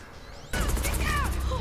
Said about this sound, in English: Oh crap, they got gunfire now.